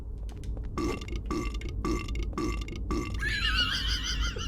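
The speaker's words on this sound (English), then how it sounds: "Silent Hill 4 has these big-ass nurses that burp on every step of the way down when you hit them downstairs." A giant nurse monster in Silent Hill 4 lets out a string of about five loud, deep, evenly spaced burps, ending in a longer wavering, groaning belch.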